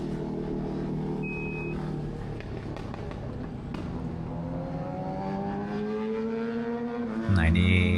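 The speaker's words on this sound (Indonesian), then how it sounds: "Nah, ini banyak banget orang balapan sini." Cars racing nearby, heard around a parked Mazda CX-5 AWD 2026, with continuous engine roar and revving passes and a louder surge near the end.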